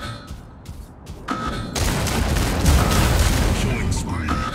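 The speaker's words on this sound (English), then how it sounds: "Incoming fire. Incoming fire." Incoming weapon fire in the Mech Arena video game, a few sharp hits followed by a dense, loud rumbling barrage of explosions that builds and holds, with a voice speaking over the start.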